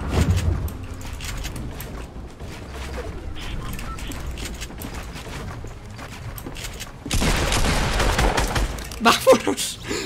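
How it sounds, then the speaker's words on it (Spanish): Fortnite gunfire rattles in rapid bursts inside the game, mixed with mechanical clicks and building sounds, growing louder and denser near the end. "Disparo muy cerca de aquí."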